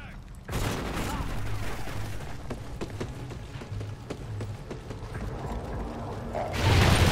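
A gun magazine being changed in the shooter video game Ghost: rapid mechanical clicks and clacks over a dense bed of gunfire and action noise, with a voice speaking in the game.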